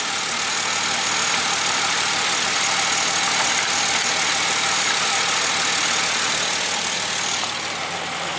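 A newer GM car's engine idles steadily up close during a coolant flush, a constant broadband rumble and hiss that holds without a break.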